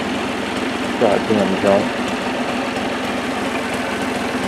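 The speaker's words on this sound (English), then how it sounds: "John Deere diesel bulldozer, lit right off, no ether" A 1975 John Deere diesel bulldozer idles after starting right up without ether: a steady low, pulsing rumble throughout, with someone briefly speaking over it.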